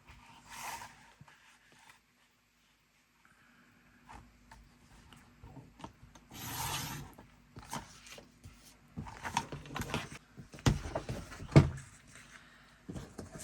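A piece of pattern paper is trimmed for a handmade waterfall album. Several short scraping swipes and small clicks come in quiet bursts, separated by near-silent pauses.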